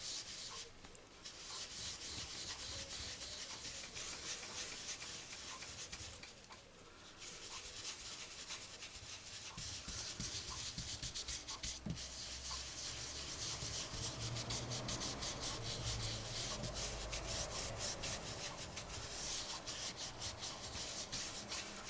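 Steady rubbing of colour pigment onto paper to blend a blue and white cloud in a tropical birds colouring picture, a continuous dry scratchy friction running close and alone for the whole stretch.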